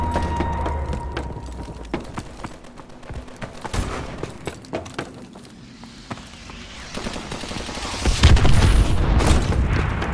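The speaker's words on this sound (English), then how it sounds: "Friendly missile strikes inbound." Missile strike explosions and scattered gunfire from the online shooter Call of Duty: Advanced Warfare, with irregular sharp bangs building to a heavy, rumbling blast toward the end.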